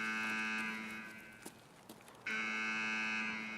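A hideout alarm in Escape From Tarkov blares as a loud, sustained buzzing tone. It drops away briefly with a couple of short clicks, then cuts back in at full strength.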